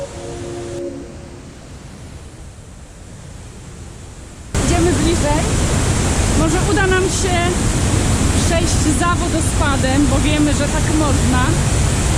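Waterfall in Brecon Beacons National Park, Wales: a broad, steady roar of falling water bursts in loudly after a quieter stretch, with voices talking over it.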